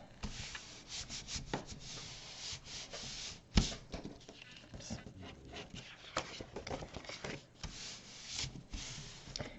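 A hand rubs a sheet of paper flat against a craft journal page, giving soft, close, irregular brushing and sliding strokes, quiet and dry, with brief sharper contacts.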